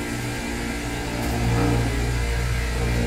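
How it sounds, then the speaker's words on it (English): A refrigeration rack compressor starts up nearby, a steady mechanical hum and whir that swells slightly in strength against a constant machinery drone in an equipment room. "I like that we got a compressor that started over here."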